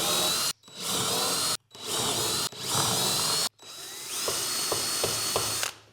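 A power drill boring holes in wood for a Plinko board, four whirring bursts separated by short pauses, the last one longer with faint clicks, close and loud.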